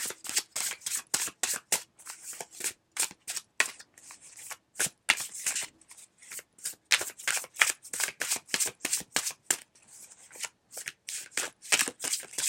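Rapid riffle shuffling of a tarot card deck, crisp bursts of flicking cards repeating over and over with brief pauses between shuffles, close up.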